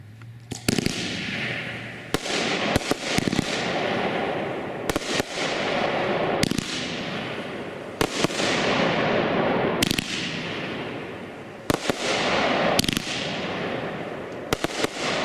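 Shogun Road Rally Rocket fireworks fire in a rapid series of loud, sharp reports, roughly a dozen bursts spaced a second or so apart, each followed by a crackling, hissing tail.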